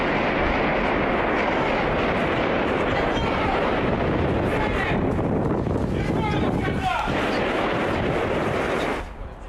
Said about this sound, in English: you can hear very loud gunshots being fired over and over